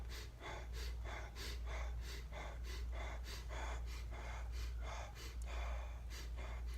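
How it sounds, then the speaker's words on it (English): A person doing continuous burst breaths, inhaling through the nose and letting air out through the open mouth, making a steady, quick rhythm of about ten breathy pulses, close and clear with no talking. "a burst breath is you'll inhale through the nose, and then you'll just open your mouth, and you'll just let the air out"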